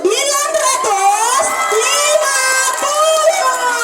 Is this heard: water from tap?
no